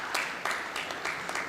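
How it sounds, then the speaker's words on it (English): Short burst of audience applause at a high-level forum in Ghana, an even wash of clapping with a few sharper claps standing out. "Give yourselves a round of applause"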